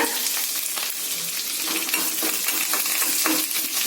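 Mustard seeds and curry leaves splutter and crackle in hot oil for a tempering, a dense, steady sizzle with frequent sharp pops close up and no talking.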